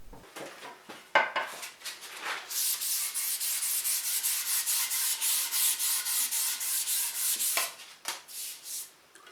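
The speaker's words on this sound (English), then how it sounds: "we need to do a little bit of sanding on the neck" Sandpaper rubbed steadily along a Fender Blackguard Esquire guitar neck during a restoration, a close, continuous scratchy hiss with rhythmic strokes running for several seconds, preceded and followed by brief handling taps.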